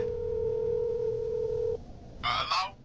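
A telephone dial tone hums steadily and loud for nearly two seconds as the handset is lifted, then cuts off, followed by a short burst of brighter noisy sound.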